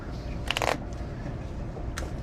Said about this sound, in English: You could shuffle them face up so everybody could see them.